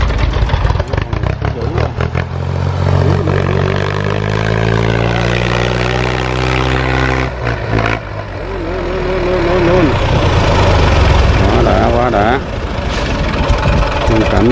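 A Ford 2500 tractor, a home-modified build, runs steadily with a loud close diesel chug and clatter throughout, its rhythm shifting slightly as people talk over it.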